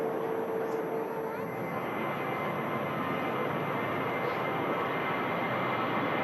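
A Qatar Airways A350 or a Saudia Boeing Dreamliner airliner arrives at Manchester Airport, a steady, broad engine roar that holds at an even level throughout without fading.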